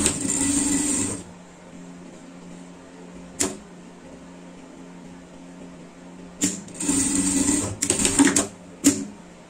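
A domestic sewing machine sews a safety seam on a tracksuit, starting with a short stitching run, then a long pause, a single click, and several short bursts of stitching near the end.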